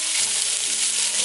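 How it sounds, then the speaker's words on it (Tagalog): Macaroni noodles sauté in a hot pan with a loud, close, continuous sizzle and frying crackle over about a second, with no voices. "Pero igigisa ko muna to with the macaroni na macaroni noodles."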